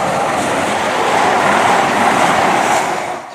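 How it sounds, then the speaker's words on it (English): A train rumbles past at close range at Ashchurch for Tewkesbury station, a steady broad roar that holds for a few seconds before easing off at the end. "Here's a train."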